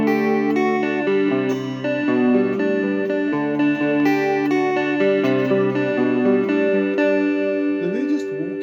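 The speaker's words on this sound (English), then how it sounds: "Now I'm going to go to some clear chords, add a bit of chorus onto it." Clean electric guitar chords with chorus effect through a Nux Mighty 8 amp, sustained strummed chords ringing steadily with shimmering, wavering tone, played alone without voices.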